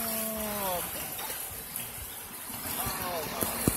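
Sewage water gushing up out of the ground by a light pole on an Oakland street at night, a continuous rushing wash under the speech of people nearby.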